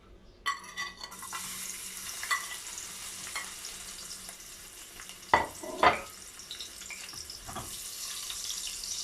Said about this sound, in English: I've added some oil to my pot. Now I'm going to be adding the ingredients, which is going to be the onion first.